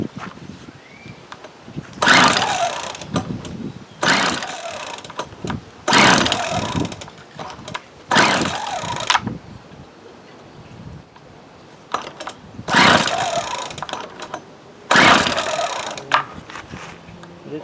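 A 1996 Craftsman string trimmer that is 28 years old is pulled over repeatedly, giving loud bursts of about a second each, spaced evenly with quiet gaps, as the small two-stroke engine fights to start.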